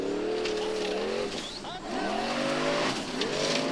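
A Formula Offroad buggy revs hard as it climbs a steep hill at the Hella round in Iceland, the engine rising and falling in pitch, loud and close, with crowd noise and commentary underneath.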